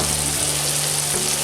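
Mushrooms fry in a hot pan with a steady, even sizzle that runs unbroken from start to finish and is close and fairly loud.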